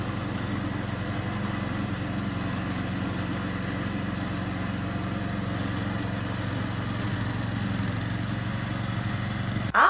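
A lawn mower runs steadily for the full stretch while grass around a farm shed is cut, its engine droning loud and close with an even hum and no voices.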